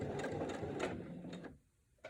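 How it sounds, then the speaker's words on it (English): A sewing machine backstitches through quilt binding in short bursts of stitching that stop and start, close and steady, before a quiet pause and a brief final whir. "I'm going to go ahead and backstitch."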